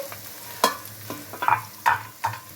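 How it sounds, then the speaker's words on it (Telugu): Ginger garlic paste cooking in a pan for mutton dry curry, with a low sizzle and a few distinct scraping stirs at irregular intervals, close by and without talking. "అల్లం వెల్లుల్లి పేస్ట్ వేగిపోయిందండి"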